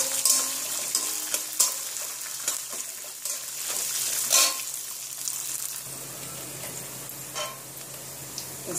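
Dried chilies, garlic and peanuts frying in hot oil for a masala rava dosa chutney, a close, continuous crackling sizzle with occasional sharper pops and stirring clinks, heard alone.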